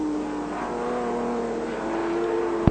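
A 1981 Ford Falcon touring car accelerates along the straight at Calder Park in an ATCC race, its engine droning steadily at a rising pitch, loud and continuous, with a brief sharp knock near the end.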